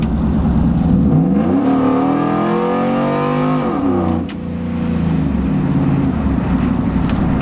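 A cammed 5.3 engine in a Chevrolet Silverado, running with a freshly fitted MAF sensor, revs up loudly and climbs in pitch, eases off with a brief dip, then settles back into a lumpy, choppy idle, close and without talk.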